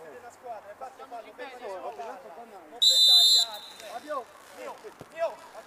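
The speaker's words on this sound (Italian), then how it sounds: "arbitro che fischia un calcio di punizione in favore del Peperino" A referee's whistle signals a free kick in an Italian Serie A C8 football match. It is one loud, piercing blast of about half a second, cutting over continuous excited commentary.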